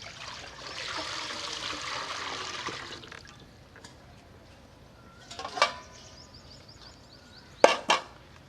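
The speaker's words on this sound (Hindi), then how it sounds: "इसमें पानी डाल लेते हैं।" Water pours steadily into a large cooking pot for steaming, a broad rushing stream for about three seconds, then quieter handling with a few sharp metallic knocks of the pot near the end.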